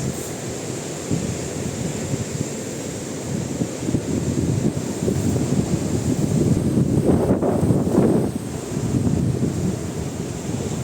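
Heavy surf roars continuously with wind rushing across the microphone, the crash swelling louder toward the end before settling back.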